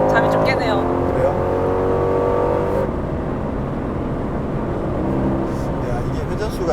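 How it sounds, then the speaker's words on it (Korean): An Aston Martin DB11 V8 grand tourer idles and pulls at low revs with a steady, throaty exhaust rumble, heard from inside the car as people talk over it. "이게 회전수가 저회전일 때 뒤에 배기에서 따다다다 하는 소리가 그거 참 특이하네"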